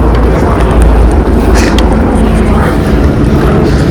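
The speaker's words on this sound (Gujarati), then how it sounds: "ઉપર ચોપરી હાલતા જ હોય હેલિકોપ્ટર" A loud, steady rumbling roar of a helicopter flying overhead near Kedarnath fills the whole stretch, constant and close, drowning out other sounds.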